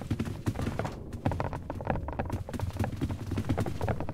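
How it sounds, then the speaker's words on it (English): Blocky, Lego-like character footsteps in the Roblox video game patter as a quick, busy run of clicky taps, loud and steady throughout. "That's our footsteps. We're Lego people."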